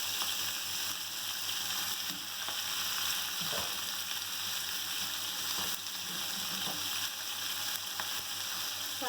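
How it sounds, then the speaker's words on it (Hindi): About 300 grams of boneless chicken fries in hot oil in a pan, giving a continuous close sizzle with scattered crackles and occasional stirring clatter, with no one talking. "फ्राई करेंगे।"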